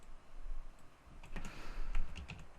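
Keystrokes on a computer keyboard while typing a query name into a database program, a short burst of light clicks in the second half, close and fairly quiet.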